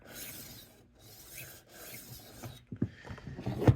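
A knife drawn over the 240 grit wheel of a rolling knife sharpener, steady gritty rasping in two strokes followed by rattling, clicking handling noise, close and moderately quiet.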